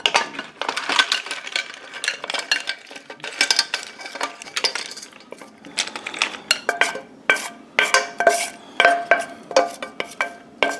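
Freshly opened clams dumped from a pan into a pot of cooked pasta, a rapid run of loud hard clinks and shell clatter against metal in uneven bursts, close up.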